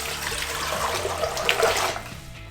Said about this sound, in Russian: берем кастрюлю, наполняем ее водой